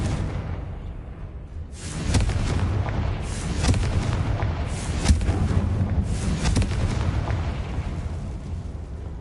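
A Confringo fire spell bursts in Hogwarts Legacy, a loud rumbling blast that swells about two seconds in, then a chain of booming fiery explosions with sharp peaks rolls on steadily to the end.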